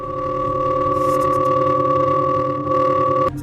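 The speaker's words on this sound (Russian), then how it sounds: "Эта фантастическая на вид туманность называется кошачий глаз." The Cat's Eye Nebula rendered as sound: a steady electronic drone of layered sustained tones with a faint airy hiss, unchanging for several seconds before a brief click at the end.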